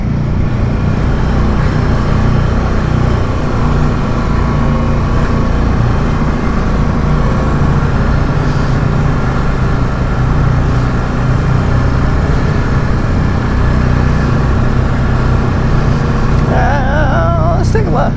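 A lifted truck on new tires drives through a mud hole, its engine droning steadily and loudly close by under continuous rumbling road and mud noise.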